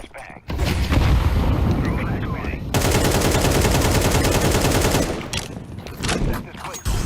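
Heavy gunfire rattles through a video game firefight, with sustained rapid bursts and a loud flashbang-like blast, while a voice talks over the action.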